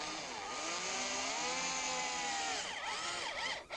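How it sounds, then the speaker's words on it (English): A power drill driving drywall screws, a loud close whine that stays steady, then wavers and winds down in pitch near the end as the screw seats. "you can secure it with a couple of drywall screws right away"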